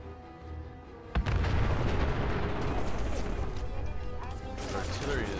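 Artillery fire in Fallout 4: after a quieter start, a heavy boom breaks in and a dense, sustained roar of distant barrages and rumbling impacts follows, loud and continuous to the end.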